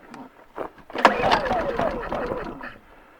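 A Honda 2000i generator engine cranks and catches after a carburetor replacement, a loud rising burst that settles into a rough, uneven run with a falling pitch, following a couple of short pulls.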